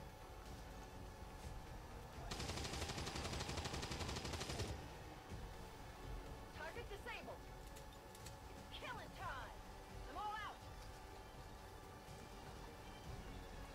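A rapid burst of automatic gunfire in XCOM 2: War of the Chosen lasts about two seconds, fairly loud, followed by quieter game sounds and someone talking.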